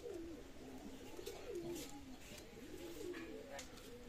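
Golden pigeons coo in soft, repeated rolling phrases close by, several overlapping calls flowing steadily over a constant background hum.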